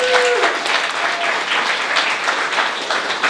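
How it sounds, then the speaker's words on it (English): An audience applauds for a club's charter members, steady dense clapping filling the room at a fairly loud level with no voices over it. "Give them a round of applause."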